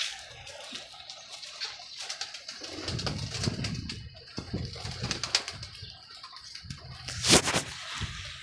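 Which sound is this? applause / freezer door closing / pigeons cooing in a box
pigeons cooing in a box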